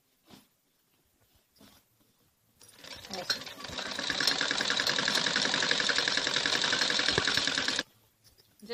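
A sewing machine stitches fabric over buckram on the cuff of a khajuri salwar, a steady, dense mechanical whir lasting several seconds after a few faint handling taps, then stopping abruptly.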